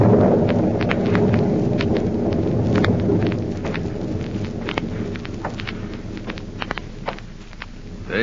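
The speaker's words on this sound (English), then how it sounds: "An eerie, stormy night at the former hideout of Professor Horn in Illinois." A thunderstorm effect from an old-time radio crime drama, set on a stormy night at an old house in Illinois: steady loud rain and wind roar with scattered crackles and low rumbles of thunder throughout, no voices.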